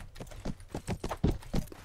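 Horse hooves clip-clop in a quick, uneven rhythm during mounted combat in the medieval game Mount & Blade: Warband, close and fairly loud, with no clear neigh and no speech.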